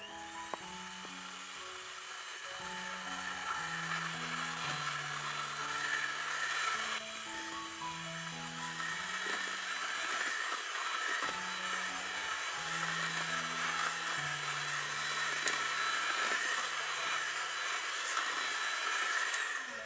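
An electric mixer beats batter made with flour and cooking oil, a loud, continuous high motor whine running the whole time, with a melody playing in the background.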